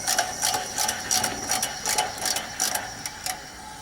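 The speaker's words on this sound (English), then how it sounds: "bearing's a little bit noisy in that fan" A fan with a noisy bearing gives off a faint, rough mechanical whir with a rapid ratcheting, clicking rattle that pulses irregularly, heard on its own without talking.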